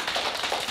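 Small audience clapping for young Charlie after his turn, a short burst of quick, overlapping handclaps at close range.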